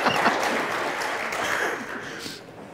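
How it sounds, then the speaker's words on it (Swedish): Audience applause at a church service, a dense, steady wash of many hands clapping that holds strong, then thins and fades toward the end. "En applåd till Tony"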